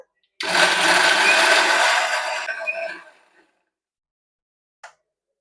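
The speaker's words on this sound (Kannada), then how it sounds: "ಇವಾಗ ಉರ್ದಿರೋ ಮಸಾಲೆ ಎಲ್ಲಾ ರುಬ್ಕೊಳ್ತಾ ಇದ್ದೀನಿ ಈ ಮಸಾಲೆ ನುಣ್ಣಗ್ ರುಬ್ಕೊಳ್ಬೇಕಾಗುತ್ತೆ" A mixer grinder whirs loudly while grinding roasted masala spices, a dense motor roar for about three seconds that winds down and stops, followed by silence and one faint click.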